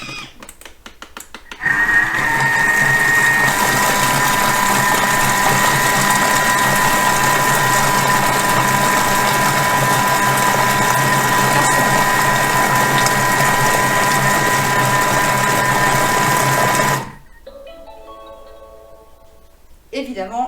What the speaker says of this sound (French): On va faire remarcher notre robot.